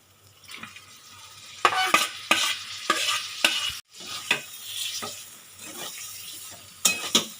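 Ridge gourd sautéed with spices and garam masala in a thick gravy, a spoon stirring and scraping the pan in repeated strokes over a steady close sizzle, with no voices.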